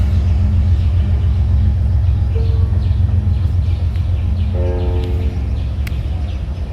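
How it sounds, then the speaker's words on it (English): A train rumbles past in Galveston, Texas, in a heavy, continuous low roar, with a brief horn-like tone sounding partway through; no voices. "Oh, that's a train, by the way, in case y'all wonder what that noise is."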